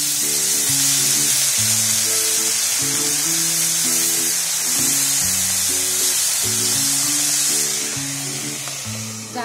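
Water splashed into a frying green tomato chutney mixture brings a steady, bright hiss and sizzle from the pan that holds throughout and eases slightly at the end, with background music playing underneath.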